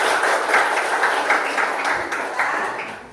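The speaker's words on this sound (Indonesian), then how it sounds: "tepuk tangan dulu" Children in a classroom clap together in a short, loud burst with a loose rhythmic pulse that fades slightly as it ends.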